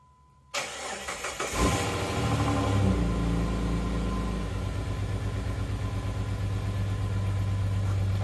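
Jeep Grand Cherokee WJ engine cranks and fires up after a fuel pump replacement, then settles into a steady, loud, close idle with a rhythmic low rumble and no talking.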